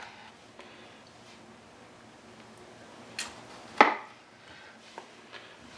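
A knife cuts peeled tomatoes into quarters on a board, giving a few soft, sparse thunks with one sharper chop near the end, close and quiet with no talking.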